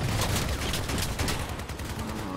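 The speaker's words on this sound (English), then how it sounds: "He's got an auto cannon." Autocannon fire from a vehicle in the Crossout video game, a dense, loud burst of rapid shots blurring into continuous gunfire.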